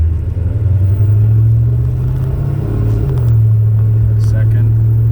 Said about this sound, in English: See how the transmission shifts through the gears.